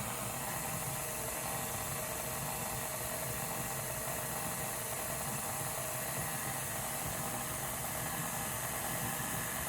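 An electric mixer beats cream cheese and sugar for a red velvet cake, making a faint, steady, unbroken motor whir with no voices.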